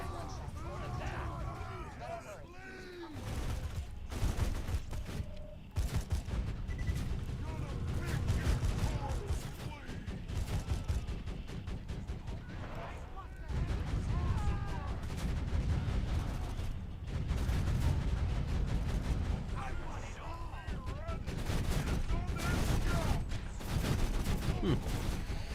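Rapid turret fire in a video game rattles nearly nonstop as dense bursts with a heavy low rumble, while a player talks over it throughout.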